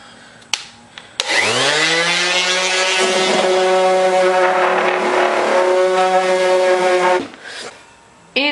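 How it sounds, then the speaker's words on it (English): A random orbital sander smoothing wood spins up with a rising whine, holds a loud, close buzzing drone for about six seconds, then cuts off and winds down, with a couple of short knocks around it. "now I'm just going to take my random orbital sander and sand these smooth"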